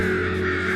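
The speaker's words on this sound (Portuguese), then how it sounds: "Quando encontram os corpos de corvos mortos, às vezes eles começam a piar alto" Crows caw loudly in a single harsh, drawn-out call, close and strong, with no talking.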